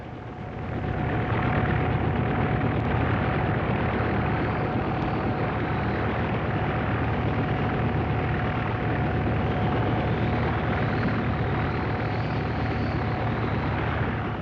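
An RAF helicopter drones continuously, its engine and rotor noise rising quickly and holding loud and steady, with a faint high whine above.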